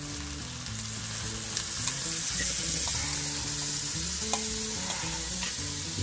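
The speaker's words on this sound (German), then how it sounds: "Wir geben jetzt die Düxelle in die aufgelöste Butter." Duxelles sizzles steadily in melted butter in a pan, a close, even hiss of frying with faint clinks and scrapes now and then, no talking.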